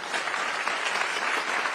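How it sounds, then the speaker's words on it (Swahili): An audience applauding presenters at a Nairobi City County event for people living with disabilities, dense steady clapping from many hands filling the whole short moment. "Situpigie presenters wetu makofi."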